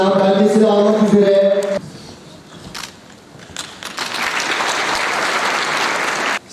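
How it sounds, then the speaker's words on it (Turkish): Audience applause at a university excellence award ceremony, a sustained crowd clapping that swells loudly in the second half after a short stretch of music and quieter sounds, then stops abruptly. "Büyük bir alkış istiyoruz."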